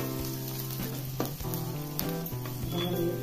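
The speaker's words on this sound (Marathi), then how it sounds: "तेल गरम झाले की थोडासा कांदा लाल होईपर्यंत परतायचा" Onion sautéing in hot oil for a Kolhapuri-style mixed vegetable curry gives a loud, continuous sizzle, with occasional stirring scrapes close by and no voices.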